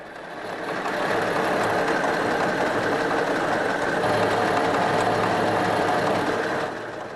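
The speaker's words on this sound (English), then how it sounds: "It's powered by the simple air-cooled VW engine that was installed in the first VW Beetles." Air-cooled Volkswagen Beetle engine powering a VW Type 166 runs steadily at a fast, even idle, a close, loud mechanical buzz with no talk.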